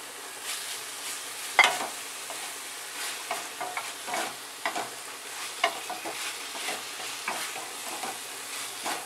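A spoon stirs bitter gourd chutney with coriander in a pan, giving a steady run of soft scrapes and taps with a faint sizzle underneath, spread evenly across the stretch.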